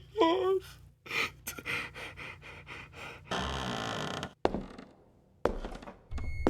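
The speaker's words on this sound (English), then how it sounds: "Creaking right outside where the door where Drake had knocked" Creaking just outside a door, mixed with gasps, breathy panting and mechanical thunks in a tense, shifting sequence.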